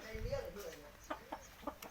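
A fighting rooster (gamecock) at a cockfighting pit, recently fought and injured, gives low throaty clucks followed by several short sharp clucking bursts nearby.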